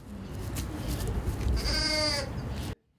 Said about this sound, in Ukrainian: народилась двійка баранчиків